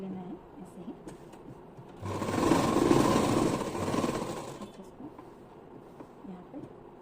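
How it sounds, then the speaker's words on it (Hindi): A sewing machine runs steadily for a couple of seconds, stitching a belt onto a salwar, its loud whirring rattle rising out of quiet room sound and then stopping. "देखो दोस्तों इसको पूरा सिल लेना है ऐसे ही।"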